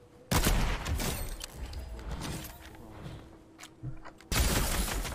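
Gunshots in a video game, a loud burst at the start followed by scattered quieter shots and game noise, then another sharp loud volley near the end.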